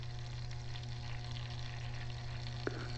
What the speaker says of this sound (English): Now the water's coming out,